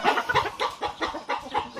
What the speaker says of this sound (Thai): เลี้ยงไก่ชนครับ